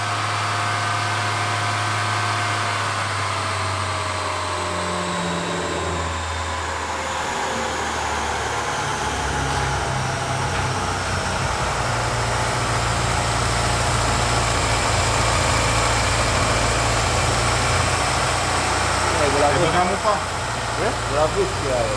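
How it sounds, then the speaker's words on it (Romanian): A BMW car engine runs at a steady idle throughout, a constant low drone with a slight shift in pitch partway through and faint voices. "Mai pornim de 2 ori motorul ăsta în spate."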